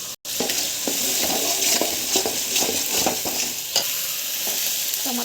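Ground tomato paste sautéing in a pan for a village-style fish curry, a steady close sizzle with scattered scraping stirs throughout, no voices.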